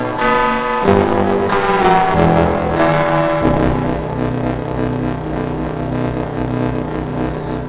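An electronic oscillator circuit with reverb added plays a few shifting pitched tones, then settles into a loud, sustained buzzy drone with a washy tail. No voices.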